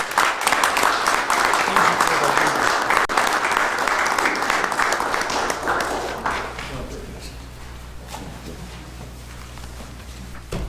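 A round of applause for Cub Scouts at a township committee meeting fills a room, loud and dense for about six seconds before thinning into scattered claps and quieter room noise.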